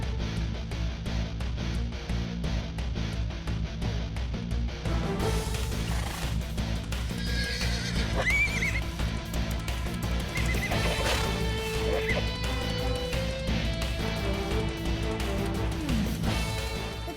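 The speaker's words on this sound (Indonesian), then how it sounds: "kuda kesayanganku yang biasa aku panggil Scotty mengamuk dan tidak bisa diam" A horse neighing and whinnying in a stable, repeated high whinnies over a constant loud background, with hoof clip-clop mixed in and no talking.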